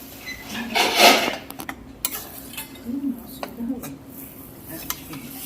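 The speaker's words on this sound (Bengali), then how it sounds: "এই যে আমি অল্প অল্প করে দুধ দিয়েছি আর নেড়ে নিচ্ছি।" Semolina halwa stirred in a pot as milk is added bit by bit, with soft scraping and occasional clinks of a spoon against metal, fairly close, under a light sizzle.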